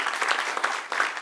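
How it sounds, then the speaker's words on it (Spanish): A church congregation bursts into brief applause, a dense, even wash of many hands clapping together at moderate distance. "Denle un aplauso al que reina."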